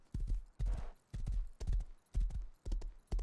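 Horse hooves clopping in the survival video game Rust, a run of about seven loud, close, evenly spaced thuds with a brief snort or breath between them and no talk.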